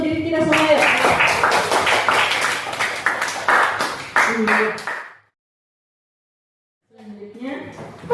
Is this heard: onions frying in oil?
no